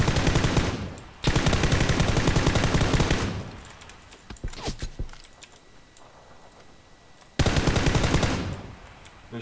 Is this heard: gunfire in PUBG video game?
yes